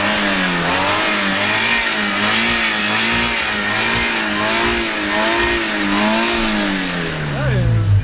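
A car engine revs up and down in repeated swells as the vehicle is moved forward, loud and close, with people talking over it.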